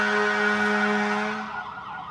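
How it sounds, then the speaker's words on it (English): A fire truck's loud, near siren wails with a steady held tone that slides downward and fades at the end. "Fire truck."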